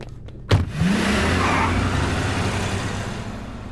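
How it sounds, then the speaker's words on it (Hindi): A car pulls away, opening with a sharp thump followed by a steady engine rumble and rising rev that stays fairly loud and close throughout. "ए, गाड़ी निकालो।"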